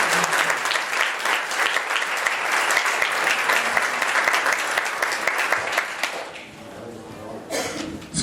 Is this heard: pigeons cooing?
no